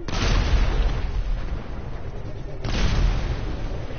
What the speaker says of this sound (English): Whoa, I hear explosions.